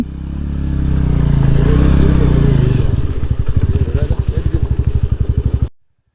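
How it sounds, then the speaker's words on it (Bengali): Off-road motorbike in the jungle climbing a hill, engine roaring loud and close, then settling into a rapid rhythmic thumping and clatter over rough ground before cutting off abruptly. "এই যে আমাদের আরেকটি বাইক আসছে জঙ্গলের মধ্যে।"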